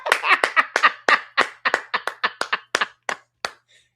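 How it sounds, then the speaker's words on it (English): A single person claps their hands about fifteen times in an uneven, quickening run, the sharp near slaps tapering off toward the end with no talk over them. "Give a hand clap of praise for my mods"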